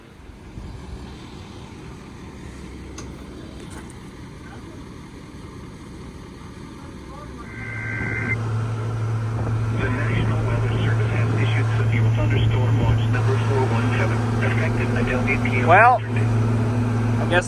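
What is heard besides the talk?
Steiger 9230 tractor engine running and driving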